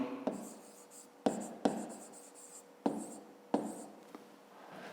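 Handwriting on paper while working a fifth-grade maths exercise, heard as close, quiet scratching strokes that start with small taps at irregular intervals, with no talk.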